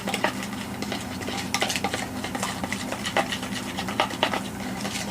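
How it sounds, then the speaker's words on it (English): Bentonite clay being stirred into a soap mixture, with a utensil scraping and clinking steadily against the container in close, irregular strokes, no speech. "So just give it a little stir."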